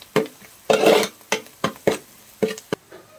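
Egg fried rice with a pinch of salt is stirred in a pan, giving short, separate scraping and clinking strokes in an uneven rhythm, close and fairly loud.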